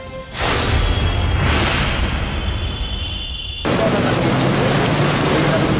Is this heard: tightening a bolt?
no